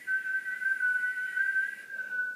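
A person whistling a single steady, clear high note for about two seconds, with a slight dip in pitch near the end, alone and close.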